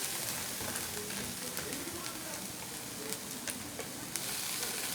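Thinly sliced potatoes sizzle and fry in a pan for a burger filling, a dense, even hiss throughout with faint scattered clicks and scrapes; no one talks.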